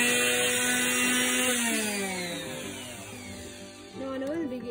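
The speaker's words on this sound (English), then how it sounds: "this is a sander" An electric sander works over a carved wooden axe, its steady motor whine falling in pitch as it slows, then picking back up near the end, close and fairly loud with no talk.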